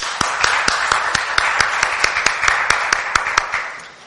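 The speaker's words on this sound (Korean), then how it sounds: "큰 박수로 다시 한번 감사의 박수를 드리고 싶습니다" An audience at a Korean policy forum on venture ecosystems claps in a sparse, steady rhythm of distinct claps that fades near the end.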